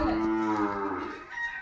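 A Hallikar cow lows once, a drawn-out, fairly close moo that sinks in pitch and tails off over under two seconds.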